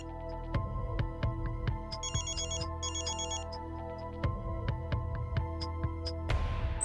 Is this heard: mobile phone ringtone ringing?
yes